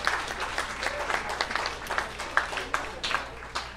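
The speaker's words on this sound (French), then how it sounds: "on peut faire une main d'applaudissement pour tout le monde" An audience at a bistro science-talk event claps for volunteer presenters, a steady wash of applause from many hands with a few sharper claps standing out, continuing at an even level throughout.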